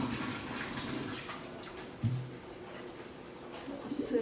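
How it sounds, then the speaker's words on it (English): Water is poured out of a pot of cooked sticky rice, a low soft splashing and trickling sound with a brief louder gush midway, fairly faint in a quiet kitchen. "And then just pour the water out."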